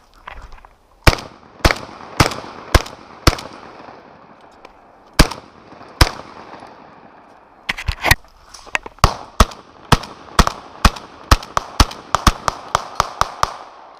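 A shotgun fires at an outdoor shooting session: a quick burst of five sharp blasts, a pause with two more, then a rapid string of about a dozen loud close reports with brief echoing tails.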